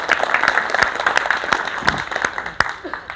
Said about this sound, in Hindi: एक बार सुरेश जी के लिए जोरदार तालियां भाई।